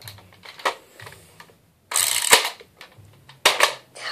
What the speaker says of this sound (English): We got to cock this before I pull it out.